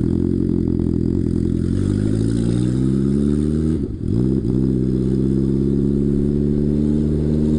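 A turbocharged second-generation Suzuki GSX-R Hayabusa runs loud and close, a steady deep engine roar with rising and falling harmonics and a brief dip in the middle, no talking.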